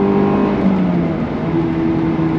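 A Honda S2000 engine revs hard and loud into VTEC, its pitch climbing steadily as it pulls, sounding close and continuous with a rising whine.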